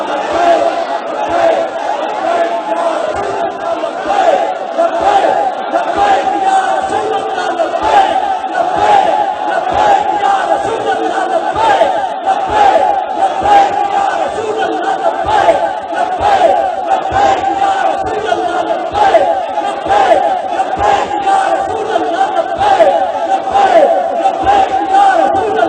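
A large crowd at a religious speech gathering chants Labbaik slogans in loud, rhythmic pulses. The massed voices repeat steadily throughout, close and overpowering, with a loud voice mixed in.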